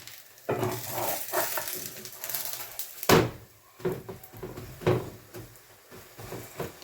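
Malawi flatbread fries in oil on a pan with a soft steady sizzle, broken by several sharper scraping and flipping bursts at uneven intervals, close and moderately loud.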